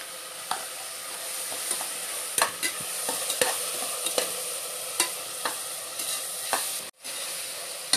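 Tomato with ginger garlic paste sautéing in a pan for vegetable kurma, a steady loud sizzle with repeated sharp scrapes of stirring, a brief pause near the end.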